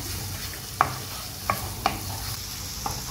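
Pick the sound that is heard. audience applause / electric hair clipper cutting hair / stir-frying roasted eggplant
stir-frying roasted eggplant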